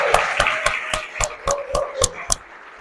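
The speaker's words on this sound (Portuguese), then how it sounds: "Então vamos aplaudir?" Applause for a priesthood ordination at an Umbanda ritual: a sparse run of about nine separate, evenly spaced sharp claps over a few seconds, fairly close and clear, with no talking.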